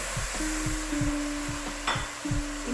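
Whole dry spices, black cardamom, cinnamon pieces and curry leaves, hit hot oil for rice with chargha, giving a soft steady sizzle with repeated light scrapes and knocks of stirring in the pot.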